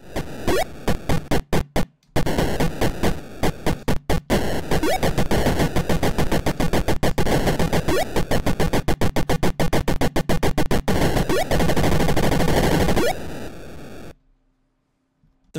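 Loud, harsh electronic video game gunfire rattles in rapid, dense bursts for several seconds, then cuts off into near silence.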